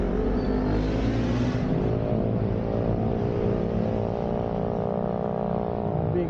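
A motorcycle rumbles along a road during a ride, its engine droning loud and close with a rising then fading pitch as it passes.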